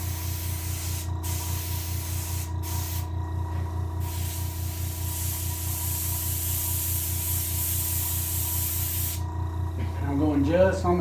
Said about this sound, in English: Just my spray here.